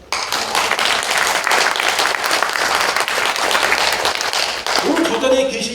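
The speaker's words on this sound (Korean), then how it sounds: "저분 오늘 고생 많이 하시는데 박수 한번 쳐주세요" Audience applause in a National Assembly conference hall during a special lecture at a world Korean women's conference, a dense burst of clapping that holds steady for several seconds, then tapers as a voice speaks near the end.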